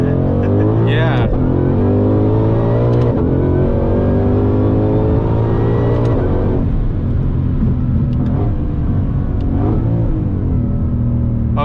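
A Ford Mustang Shelby GT500 engine pulls hard from inside the car, its pitch rising through the revs and dropping at several gear shifts, loud and close with people talking over it.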